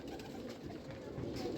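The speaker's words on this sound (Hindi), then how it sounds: "ये इंडियन कबूतर है" An Indian pigeon gives a soft, low, close cooing that continues through a short stretch, with a voice speaking over it.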